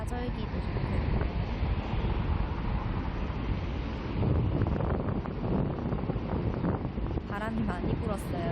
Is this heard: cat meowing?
no